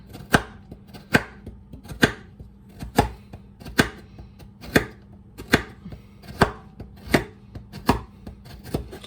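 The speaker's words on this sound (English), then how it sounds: "I'm going to cut them on the bias, like that" Knife cutting vegetables in half lengthwise and on the bias against a cutting board, sharp evenly spaced chops at a steady, unhurried rhythm, close and clear with no talking.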